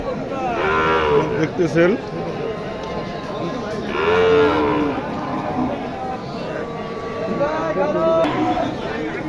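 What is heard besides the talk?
cattle mooing at livestock market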